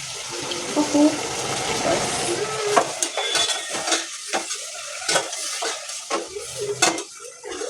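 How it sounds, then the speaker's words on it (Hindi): Chicken frying in a pot sizzles steadily as water is poured in, with repeated clinks and scrapes of a spoon stirring against the pot, fairly close and loud. "थोड़ा चिकन को पानी डाल के हल्का सा ठंडा कर लेते हैं"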